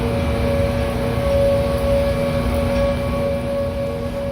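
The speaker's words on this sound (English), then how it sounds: "that's the sound of tornado sirens going off near Columbus" Tornado sirens wailing near Columbus, Ohio, a steady sustained tone heard from a distance over a constant background rumble, with no voices.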